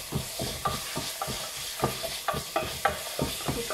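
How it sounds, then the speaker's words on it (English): Garlic frying in a pan for a Filipino chicken dish, stirred with steady repeated scraping strokes over a constant close sizzle, with no talking. "We are stirring our garlic until become golden."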